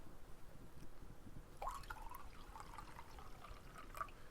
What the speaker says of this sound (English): I'm going to pour some more.